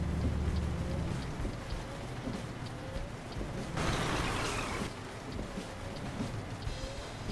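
Steady rain hisses across the whole stretch in the Euro Truck Simulator 2 driving game, with a brighter, louder burst of downpour partway through before settling back to an even patter; no voices.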